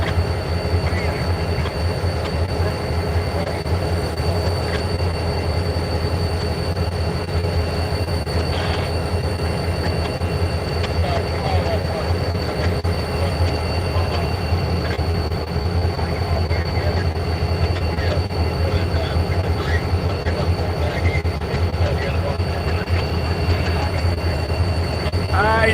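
CSX locomotive hauling a southbound freight train passes close by, a loud sustained rumble of wheels and rail cars with faint squealing and rhythmic clatter throughout.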